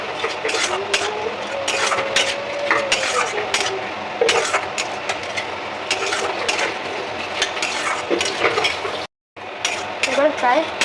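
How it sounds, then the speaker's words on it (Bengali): Onions frying in a pan with a little salt, stirred with a utensil: a steady close sizzle under clustered scraping and clinking strokes, broken by one brief dropout near the end. "হালকা হালকা করে পেঁয়াজটা দিয়ে দেবো লাল লাল করে।"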